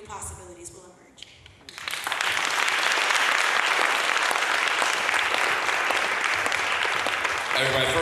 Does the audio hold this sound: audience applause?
yes